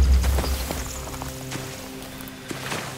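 Horses in the video game The Walking Dead season 4, hooves clip-clopping close by with a louder low thud at the start. The clopping then thins into quieter steps and shuffles.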